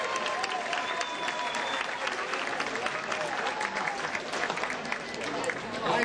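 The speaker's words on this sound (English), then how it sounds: "Give yourselves another round of applause." Concert audience applauding steadily for about six seconds, dense and loud throughout, with faint crowd murmur mixed into the clapping.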